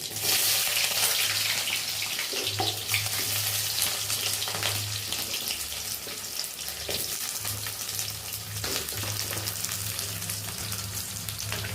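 Green chillies, curry leaves, chana dal, cumin and onion sizzle in hot oil for a cabbage poriyal, a loud continuous frying hiss with occasional stirring scrapes and a low hum underneath.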